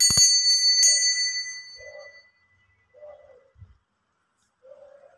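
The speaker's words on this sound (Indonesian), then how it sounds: "ditandai lonceng berbunyi" A bright bell rings several quick strikes that fade into a long shimmering decay, followed by a few soft, distant coo-like tones.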